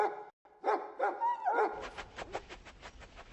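An injured dog in Dragon Age Origins gives a run of yelping barks and whimpers, several short cries in a row followed by a scratchy rustle, close and clear with no speech.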